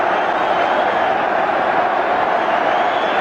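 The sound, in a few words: football crowd applauding at stadium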